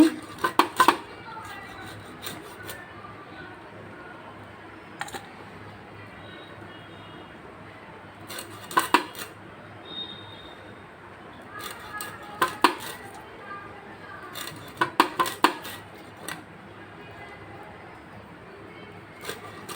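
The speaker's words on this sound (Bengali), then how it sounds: "মাছটা কেটে নিচ্ছি" A hilsa fish is cut into pieces, with irregular clusters of sharp, close knife knocks and clatter separated by quiet gaps.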